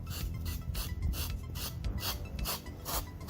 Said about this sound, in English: sand it by hand to kind of clean that up